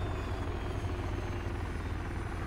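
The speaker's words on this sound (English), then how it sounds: "I got no problem finding a chopper" A military helicopter in the video game Arma 3, its rotor chopping as a steady, dense drone that holds at constant loudness throughout, with no voices.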